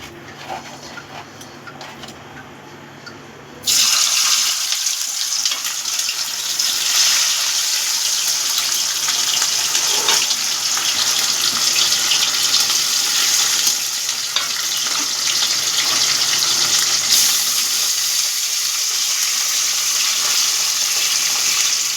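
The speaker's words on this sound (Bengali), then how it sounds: "এবার আমি মাছগুলো ভেজে নেব।" Pieces of bata fish frying in hot oil in a pan, a loud, steady crackling sizzle that surges in abruptly and continues densely without a break, with no talking.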